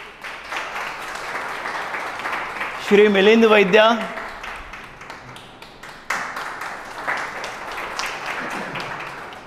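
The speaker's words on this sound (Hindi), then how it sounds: "उनका हम स्वागत करते हैं जोरदार तालियों से" An audience at an Ashayein interview camp gives loud applause welcoming three guests from supporting corporate firms. The clapping swells briefly and then continues as a broad patter beneath a voice announcing names over a microphone.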